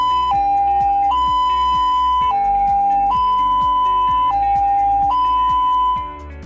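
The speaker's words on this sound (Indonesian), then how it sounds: "Jenis sirene yang pertama adalah sirene yang menyerupai bunyi palang kereta api," Ambulance siren of the type resembling a railway crossing bell, used while picking up a patient: a loud two-tone electronic alternation repeating about every second over a rhythmic tolling pulse, fading out at the end.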